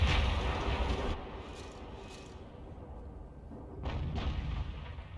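Tank gun fire and a direct hit in the World of Tanks video game, with a Hummel artillery vehicle: a loud booming blast with a rumbling tail, then a second heavy boom a few seconds later.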